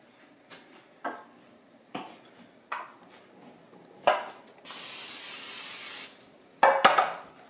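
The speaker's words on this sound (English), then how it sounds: "Spray the bottom of our pan with cooking spray." A few light taps and clinks, then a steady hiss of cooking spray onto the bottom of a brownie pan lasting over a second, followed by more clattering.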